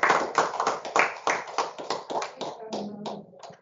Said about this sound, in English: the applause I already had